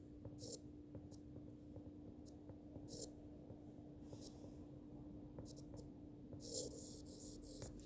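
Pencil on paper drawing a line for a graph, faint intermittent scratchy strokes close up over a low steady hum, very quiet.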